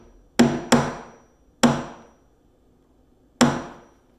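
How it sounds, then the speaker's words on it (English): A nail is gently tapped into wooden trim in four sharp, close hammer knocks, two quick ones, then a pause, then two more spaced further apart, each ringing out briefly in a quiet room. "I'm just going to use a nail and just put a nail on top of this this thing that's sticking out and just gently tap it"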